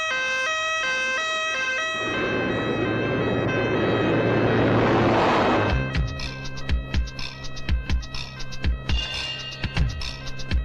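An ambulance siren wails loudly and steadily for a couple of seconds, then gives way to a rapid series of sharp clattering knocks, in a 1989 Hindi film.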